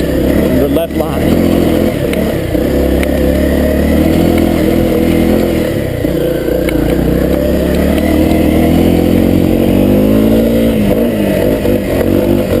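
Honda CRF250L dirt bike engine held at steady revs on a mountain trail, a loud continuous motor drone throughout with a rider's voice over it.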